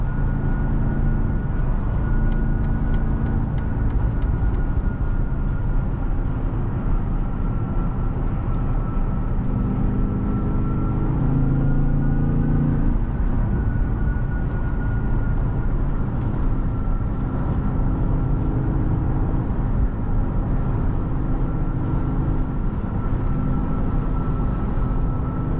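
A 2024 BMW XM Label with 738 hp accelerates on a test drive, a sustained loud engine roar with road and wind noise and a steady tone that shifts midway, heard from inside the cabin with no talk.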